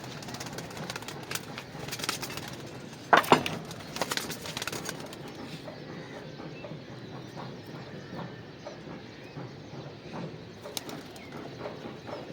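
Two half-blind pet pigeons at home give soft cooing calls with a brief burst of wing flapping early on, then quieter low coos against faint background noise, no voices.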